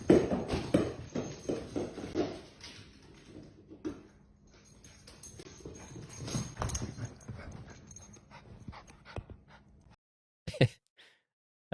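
A dog romps through a played video clip, with close scuffling, thumping and pattering bursts that fade toward the middle, then a short pause and a final sharp burst.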